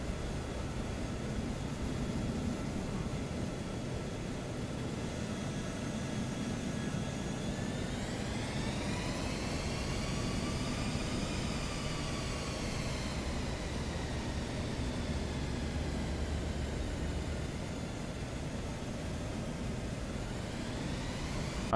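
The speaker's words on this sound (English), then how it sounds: "C-17, it's a highly capable plane." A C-17 transport plane in a flight simulator game gives a constant loud jet engine drone, with a rising and falling whine partway through and no voices.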